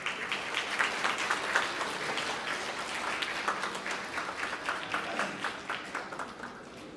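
A wedding audience applauds to welcome the officiant to the stage, a steady dense round of clapping lasting several seconds and easing slightly toward the end, with no talk over it.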